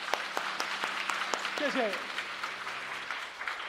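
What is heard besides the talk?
church congregation applauding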